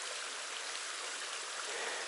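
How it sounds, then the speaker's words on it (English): A small trail creek near a soaking hole on the Foothills Trail rushes steadily and close by, a dense, even hiss of flowing water with no voices. "Nice creek."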